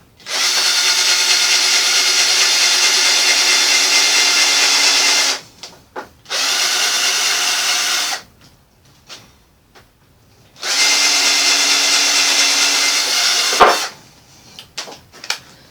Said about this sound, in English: I'm just going to put a countersink in